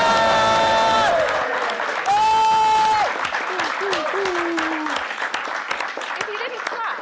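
A live PoliticsJOE pub podcast audience claps and whoops after a short musical jingle ends, with steady mid-distance applause and a voice or two over it.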